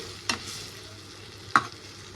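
Masala with mustard seeds, cumin and curry leaves fries in oil with a low, steady sizzle, broken twice by a sharp scrape of a spoon stirring the pan.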